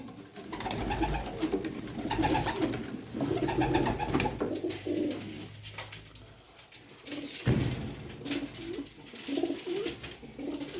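Domestic pigeons coo close by in steady rolling phrases, overlapping one another, with a short lull near the middle before the cooing resumes.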